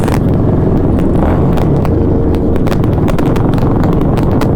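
A motorbike ridden at an India Bike Week event in Goa, a loud close engine roar with wind buffeting and sharp clicking transients throughout.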